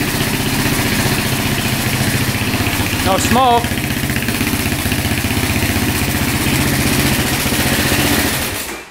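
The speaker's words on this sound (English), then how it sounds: "It's idling good now." A quad ATV engine idles steadily and loudly up close in an even, throbbing rhythm, with someone speaking briefly over it before the sound drops away at the end.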